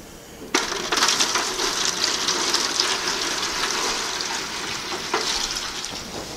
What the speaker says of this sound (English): I'm going to pour some water in this water pan.